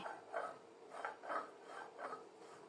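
Green chillies being ground on a grinding stone for a spice paste, a faint, rhythmic scraping rub repeating about every half second, close by.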